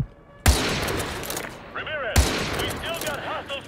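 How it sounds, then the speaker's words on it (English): Gunfire in the Call of Duty: Modern Warfare 2 campaign: two loud, close bursts of shots with long reverberant tails, and a voice briefly audible between them. "Those were really bad shots."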